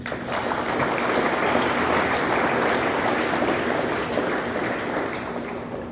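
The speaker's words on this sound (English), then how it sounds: "I feel like she doesn't get a huge round of applause." Steady applause from a crowd at a tennis academy banquet, broad and continuous throughout, with a faint low hum underneath and no voices standing out.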